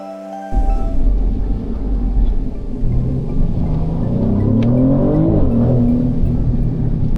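Maserati GranTurismo Trofeo on the Coast racetrack, its engine bursting in loudly after a brief quieter start, then a steady powerful drone with rising and falling rev sweeps as the car accelerates and shifts.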